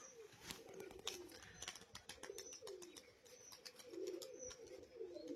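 Rajshahi giribaz pigeons coo softly in a series of low, rounded calls close by, mixed with a few faint chirps and light clicks in a quiet outdoor setting.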